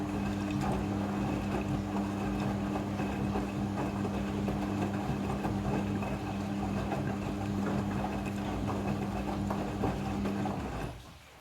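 Midea front-loading washing machine in its spin cycle while wringing laundry, a loud steady motor hum and drum whir that holds for about eleven seconds, then winds down at the end.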